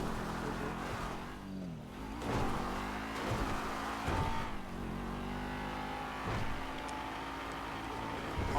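A Porsche drives in GTA V with a steady, moderately loud engine drone. The engine rises and dips with occasional revving swells as the car speeds along.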